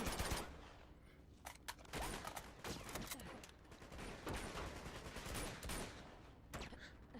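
Rapid automatic gunfire sounds in Uncharted 2 as enemies are mowed down, with dense rattling bursts broken by short sharp gaps. Several seconds of loud, close fusillade are mixed with game sound effects.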